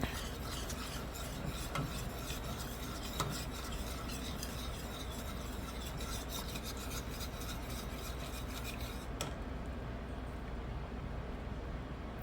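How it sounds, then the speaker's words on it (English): Continuous scraping and rattling of a whisk against a metal saucepan while thickening lemon meringue pie filling, steady and close, with a faint background hiss and no speech. "we're going to whisk it constantly for 1 to 2 minutes so it will thicken up"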